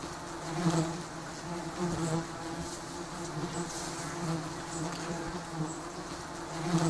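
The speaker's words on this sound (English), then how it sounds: "The giant stinging honeybees build their nests on sparsely leaved trees or rock crevices" Giant stinging honeybees buzz steadily at their nest on a sparsely leaved tree or rock crevice, a dense, droning swarm hum that stays close and even throughout, with no voices.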